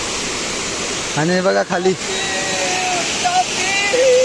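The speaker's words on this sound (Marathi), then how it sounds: "वॉटरफॉल बघायला भेटलं" A waterfall at Akoli near Boisar in the monsoon season gives a steady broadband rush through the whole stretch, with people talking briefly over it.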